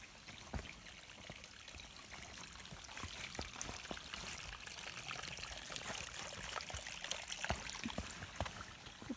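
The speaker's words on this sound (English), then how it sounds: "Trail River." A river beside the Appalachian Trail in Virginia flows and trickles steadily, a close, constant wash of water with small splashing ticks scattered throughout and no voices.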